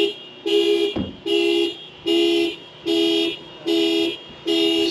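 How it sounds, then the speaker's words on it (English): A car alarm sounds nearby, loud and insistent, in evenly spaced repeating blasts of a harsh electronic tone, with a single dull thump early on. "Somebody set off their alarm."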